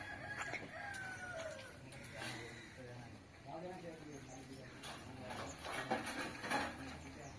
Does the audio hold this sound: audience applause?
no